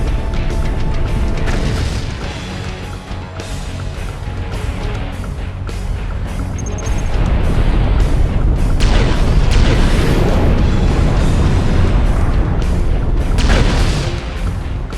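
Missiles slam into the main reactor in the Iron Man video game, a continuous barrage of heavy booms and rumbling blasts, loud and close, swelling stronger in the second half with crackling debris on top.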